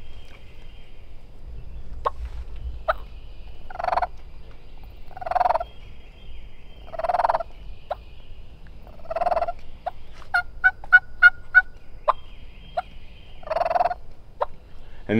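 A turkey call mimics a hen's light clucking purr: soft, scattered clucks and short rolling purrs spaced irregularly over a quiet outdoor background, with a quick cluster of sharp clucks near the end.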